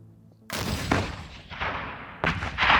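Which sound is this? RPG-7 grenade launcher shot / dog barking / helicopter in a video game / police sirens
RPG-7 grenade launcher shot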